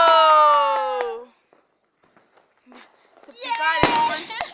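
New Year fireworks and firecrackers go off in a residential neighborhood. Sharp bangs and pops come near the end, and voices talk at the start and between the bursts.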